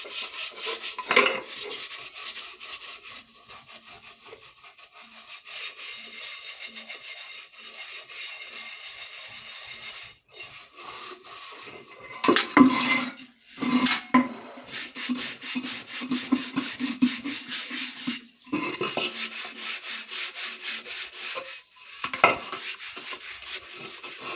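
Dishes scrubbed by hand at home, a close, rough rubbing and scraping that comes in bursts with short pauses.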